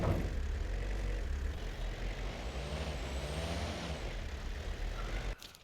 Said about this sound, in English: Going off-roading in our Jeep here, kind of on this little trail.